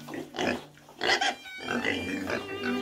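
Pigs grunt and squeal in a livestock transport truck on the way to a processing plant, several animals close by with overlapping grunts and a vehicle hum beneath.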